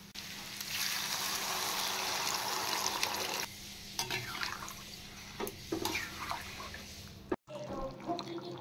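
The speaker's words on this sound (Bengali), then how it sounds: "এবার আমি জল দিয়ে দেব।" Water goes into a pan of frying taro and potato curry, giving a loud rushing sizzle that drops back to a quieter bubbling hiss with occasional stirring knocks, close up.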